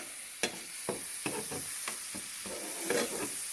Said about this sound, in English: And I'll add a little bit more butter to the pan.